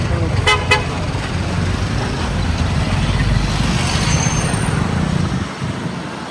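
Car horns toot twice in quick succession over dense, steady roadway traffic noise in a busy Kushalnagar market street, engines rumbling continuously throughout.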